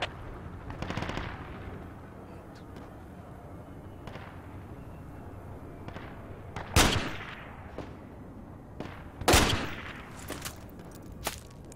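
Gunfire aimed at the player in the Project Reality military shooter, with sharp close shots near 7 and 9.5 seconds standing out against a steady rumble of distant battle and scattered reports.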